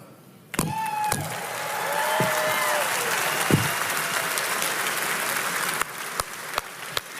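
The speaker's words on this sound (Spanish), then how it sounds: "Un aplauso al Señor." Church congregation applauding during a Spanish-language sermon, a sustained wash of clapping that swells after a sharp start and holds steady, with a few louder thumps near the end.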